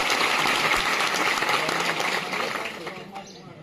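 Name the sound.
audience applause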